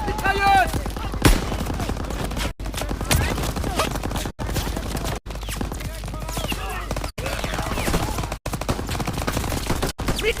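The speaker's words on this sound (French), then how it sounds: "Neutralise cette mitrailleuse!" Bursts of machine gun fire ring out in a World War II battle scene from Call of Duty WW2, mixed with explosions and shouting soldier voices. The firing is loud and rapid, with repeated sharp cutoffs.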